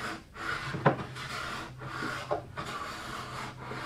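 Hand tool shaving walnut for a custom sofa in a woodshop, giving a series of rhythmic rasping strokes, each a rough scrape followed by a short pause, close and moderately loud.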